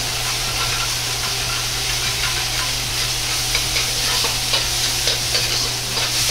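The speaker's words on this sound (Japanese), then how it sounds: "よく炒めます。" Doubanjiang chili bean paste sizzles and fries in hot oil in a pan, a steady close hiss broken by scattered pops and soft stirring scrapes, with no voices.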